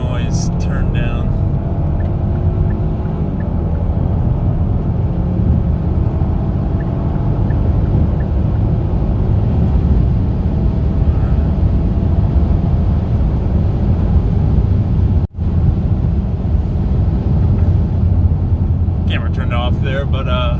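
A stock Kia Stinger GT in sport mode accelerates hard in repeated pulls, a steady broadband road and engine roar heard from inside the cabin with a brief dropout near the end, engine sound turned down.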